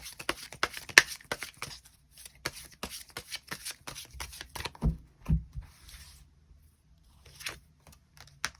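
Tarot cards shuffled and drawn by hand on a table: a quick run of crisp flicking card sounds, then softer slides and taps as individual cards are pulled out, close and clear with no talking.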